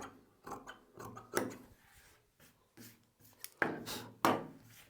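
Scissors cutting blouse fabric in straight lines, a series of close, crisp snips and crunches in uneven bursts with short quiet pauses between, with no talking.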